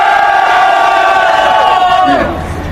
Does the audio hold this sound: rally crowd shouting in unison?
yes